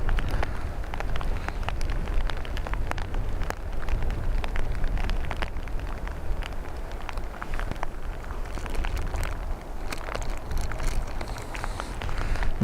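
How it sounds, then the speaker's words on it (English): Steady rain shower falling and pattering on surfaces at Dublin Airport, a constant dense hiss with scattered louder drops throughout. "Shower passing over the airport here currently."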